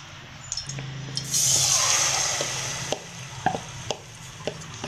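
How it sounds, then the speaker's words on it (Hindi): Green onions hit hot cooking oil in a pot and sizzle steadily, a bright hiss rising and then settling into a softer continuous fry with a few small clicks, close and alone. "ऑयल हमारा गर्म हो जाएगा तो हम इसमें हरी प्याज डाल देंगे"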